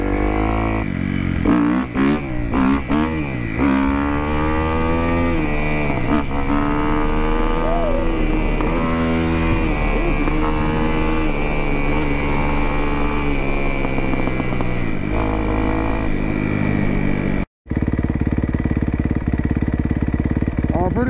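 A motorcycle engine idles and warms up without choke, then revs and pulls away, its loud, uneven rumble rising and falling, with a voice and music running over it.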